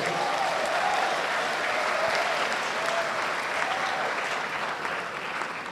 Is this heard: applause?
yes